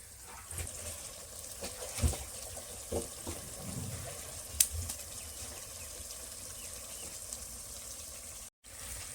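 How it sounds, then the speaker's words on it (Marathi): Water pours and splashes into a pot of fish-head curry in short bursts, with faint clinks and a steady low background hiss. "आता याच्यामध्ये आपण पाणी घालून घेऊ"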